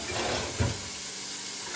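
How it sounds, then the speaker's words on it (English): Ground beef browning in a pan with crushed red pepper flakes, sizzling as a steady, fairly loud hiss close by with one brief bump partway through. "I hope you guys can hear me over the sizzle."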